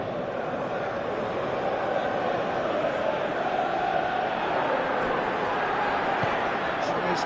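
Stadium crowd noise from the football video game PES, a steady broad roar and murmur that swells slightly at moments, continuous and moderately loud throughout with no distinct chants.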